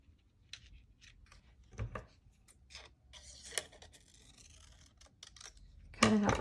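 Scissors snip through material while a kinetic art creature is being made, cutting its mouth in a few short, close, crisp strokes separated by quiet pauses, with a louder burst near the end.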